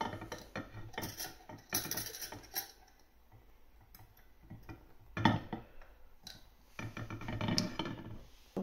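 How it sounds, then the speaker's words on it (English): A lid goes onto a glass jar of pickled magnolia flowers in vinegar: quiet, close clinks and taps of glass and metal, scattered irregularly across a hushed kitchen. "Put the lid on."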